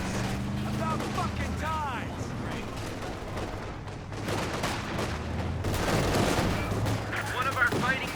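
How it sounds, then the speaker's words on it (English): Gunfire and explosions from the real-time strategy game Company of Heroes 2 during a 2v2 match, dense continuous battle noise with repeated shots and booms under steady background sound, loud throughout. "One of our fighting positions is sustaining fire."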